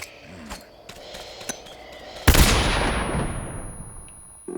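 A single loud gunshot in the Metal Gear Solid 3: Snake Eater video game cracks sharply and rings out into a long, fading tail, after a few quieter clicks and taps.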